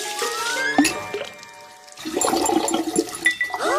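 Rinse water runs and drains down a sink drain with gurgling and light clinks, a steady watery wash lasting several seconds with a brief quieter gap partway through.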